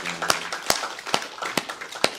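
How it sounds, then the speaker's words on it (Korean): Church congregation at a Sunday service applauding, a sparse, uneven run of sharp claps spaced through the moment, moderately loud and close, with no talk over them. "우리 하나님께 영광의 박수 올려드리겠습니다."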